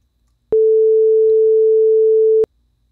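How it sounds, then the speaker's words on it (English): A steady pure sine tone generated by a Web Audio API oscillator sounds for about two seconds, starting and stopping abruptly with small clicks, loud and alone against silence. "we should hear a 2 second tone come out of our speakers."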